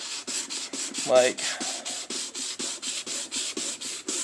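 Sandpaper rubs back and forth across a Mk4 Golf headlight lens in quick, even strokes, a close, soft rasping rhythm, with a brief spoken word partway through.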